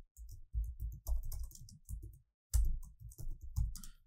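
Close-up typing on a computer keyboard while editing text in Microsoft Word. Quick clustered bursts of keystrokes come in short runs, with a brief pause midway before the clicking resumes.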